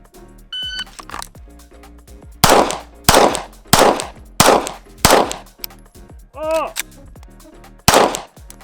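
Loud, sharp shotgun blasts from a TTI Sand Viper, six evenly spaced shots about a second apart with metallic clanks between, fired close up on a range.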